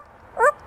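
A person voices a single short, high dog-like bark in imitation of a dog, brief and alone against quiet background.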